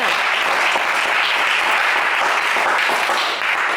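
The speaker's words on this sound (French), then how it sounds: "Allez, on vous applaudit, Franck Arnaud." A game-show studio audience claps steadily and loudly, a dense wash of applause that continues without pause throughout.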